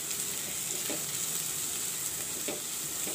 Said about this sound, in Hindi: इसे भी हम मिक्स कर लेंगे और अच्छे से हम भून लेंगे जिससे पत्ता गोभी का कच्चापन निकल जाएगा